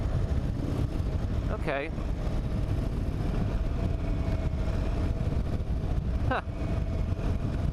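Indian Super Chief Limited touring motorcycle engine droning steadily at speed under heavy wind rush, with the throttle rolled off and back on; a rider briefly speaks over it.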